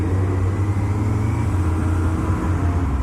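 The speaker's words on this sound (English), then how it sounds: "That's a loud truck." Loud truck rumbling past in dense city traffic on a Kyoto road, a heavy low engine drone filling the whole moment close by and steady, with no talking.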